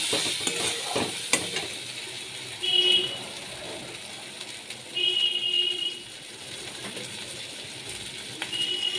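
Spices for a fish curry frying in a pan, a soft continuous sizzle with occasional scraping stirs and brief metallic clinks, fairly quiet and close.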